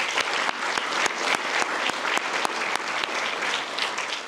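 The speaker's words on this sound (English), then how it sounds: "round of applause to all the families that came out today" Steady, dense applause from families in the audience at an October promotion ceremony, sustained and fairly close throughout with no speech over it.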